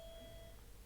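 An electronic doorbell sounds as one steady, clear beep-like tone that lasts about half a second before cutting off, with nothing else happening and no voices.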